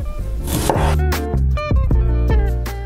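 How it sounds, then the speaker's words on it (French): Knife slicing a peeled daikon radish into 1 cm rounds on a cutting board, a run of crisp, evenly spaced chops close up, about eight cuts in under three seconds. "Et coupez des rondelles d'environ 1 cm."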